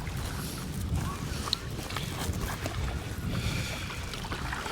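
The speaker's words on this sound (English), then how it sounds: "I'm just gonna worry about paddling out here on Barkcamp Lake." Paddling a small boat out on Barkcamp Lake, with irregular splashes and water sloshing mixed with wind buffeting the microphone, continuous and fairly close, no voices.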